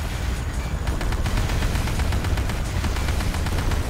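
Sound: gunfire in the video game Command & Conquer: Renegade

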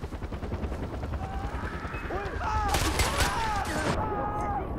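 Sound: gunfire at a helicopter in video game Far Cry 4

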